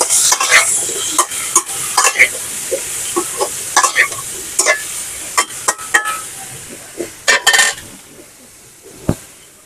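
Brinjal stirred in oil in a pan, with frequent sharp scrapes and clinks of a spatula over a continuous bright sizzle, loud and close.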